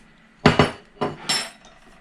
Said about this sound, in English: Get that all mixed together